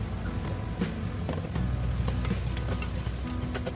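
Black tiger shrimp stir-frying in a hot pan, a steady close sizzle with scraping and stirring clatter throughout, no talking over it.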